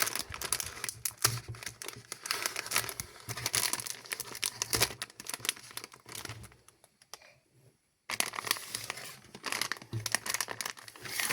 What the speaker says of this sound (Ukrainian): Але для початку розпакуємо мій набір. Починаємо відкривати.